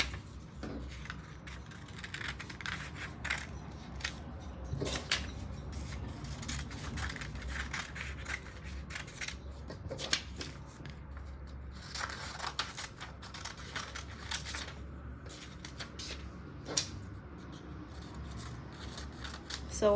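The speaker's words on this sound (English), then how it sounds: "So I'm going to cut out the full length and then also the waist line." Scissors snip steadily through dress fabric while cutting out the full-length and waistline pieces of a gathered corset basque dress. The crunching cuts run close and continuous, with an occasional sharper snap.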